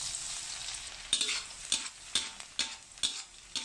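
Minced garlic stir-frying in hot pork lard, a steady bright sizzle with repeated sharp scraping bursts as it is stirred, close and alone.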